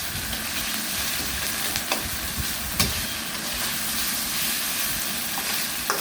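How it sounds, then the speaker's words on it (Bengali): Chopped onions and pieces of a large grass carp fry in hot oil. A continuous, moderately loud sizzle and hiss runs throughout, broken by a few faint clicks and taps. "ভালো করে আমরা তেলে ভেজে নিলাম"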